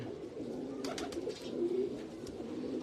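A pigeon cooing in a soft, low, continuous warble, faint and close, over steady room murmur with a brief flutter of higher rustling; no talk.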